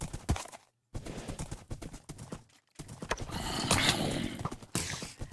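Horse hooves clip-clopping in Minecraft, a run of hoof steps with short pauses and a neigh, under a busy game soundscape with skeletons nearby.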